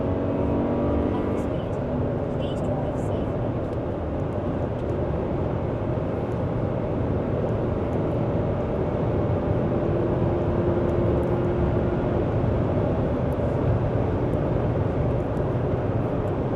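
Jetour T1 SUV accelerating on a test drive along a narrow country road, a constant engine and road drone heard from inside the cabin, steady and fairly loud, with no distinct gear-shift break.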